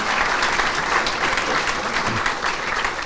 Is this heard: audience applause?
yes